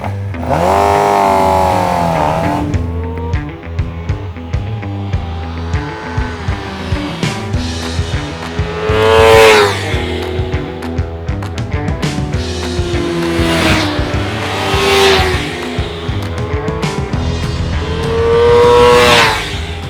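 A 2016 Suzuki GSX-R600 sportbike engine revs loud and close, climbing through repeated high-pitched acceleration sweeps, with sharp rhythmic pulses between runs and no voices.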